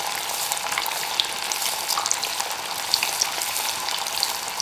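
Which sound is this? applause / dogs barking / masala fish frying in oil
masala fish frying in oil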